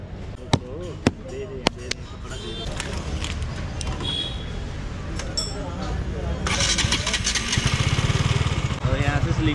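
A new motorcycle at the start of a test drive gives a few sharp knocks, then its engine starts and idles with a pulsing, low throb that grows louder near the end, while people talk nearby.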